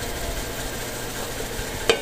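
Pork hock paksiw simmering in a pot is stirred with a spoon, giving a soft bubbling scrape under faint cooking noise and ending in a single sharp clink.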